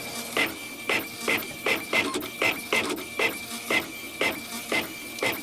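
An Epson Stylus Color 800 inkjet printer runs its print head back and forth in about a dozen steady, regular passes, each a short whirring rasp with a high tonal whine, close and alone.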